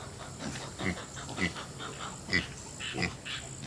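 Pigs in a backyard garden pen grunting, a few short low snorts spaced irregularly about half a second to a second apart, close by and moderately loud over faint background noise.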